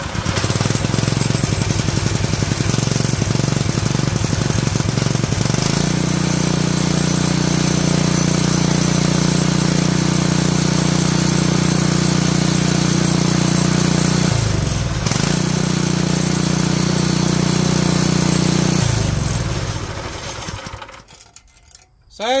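Duromax 7hp small engine running close and loud, a steady throbbing drone that shifts pitch slightly midway as the choke is adjusted, then cuts out near the end.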